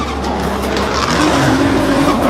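A drift car in competition slides with a steady loud tire squeal over a roaring engine, continuous and close for the whole span.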